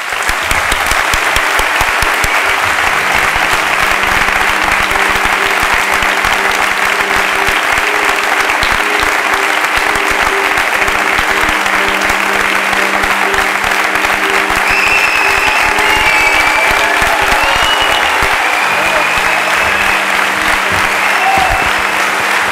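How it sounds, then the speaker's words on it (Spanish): Sustained loud applause from a large crowd at a Ciutadans central campaign rally in a conservatory hall in Barcelona, welcoming Javier Nart; dense, continuous clapping that holds steady for over twenty seconds with no voices breaking through. "Un gran aplauso para Javier Nart."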